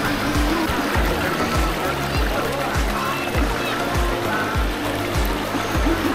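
Steady rushing of the Danggawan River in Maramag, Bukidnon, with a rhythmic low thumping throughout, and people talking faintly in the background.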